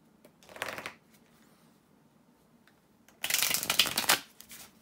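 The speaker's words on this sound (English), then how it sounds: "to shuffle the tarot cards" A deck of tarot cards is shuffled in two bursts, a short riffle first and then a longer, louder one after a pause, close to the microphone and with no talk.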